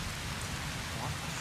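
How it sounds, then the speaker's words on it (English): Heavy rain pours steadily during a storm in the Fallout: New Vegas video game, a dense, constant hiss with a low rumble underneath. "I love rain in real life and storms, but Jesus, I can't hear myself."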